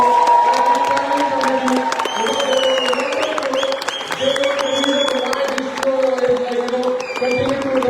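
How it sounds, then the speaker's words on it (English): A large crowd at a Dhamma Chakra Pravartan Din gathering claps and cheers loudly and continuously, with whoops and children's shouts rising over the dense applause and voices mixed throughout. "Please have a big round of applause."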